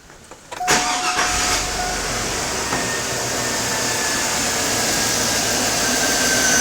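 A car engine cranks and fires up during automotive oscilloscope testing, catching abruptly and settling into a loud, steady idle that fills the rest of the moment.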